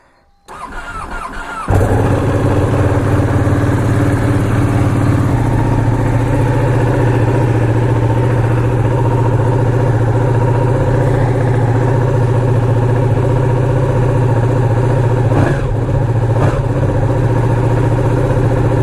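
A Ducati 959 Panigale motorcycle fires up with a quick crank, then settles into a loud, close, steady idle with a deep rhythmic throb that continues unbroken.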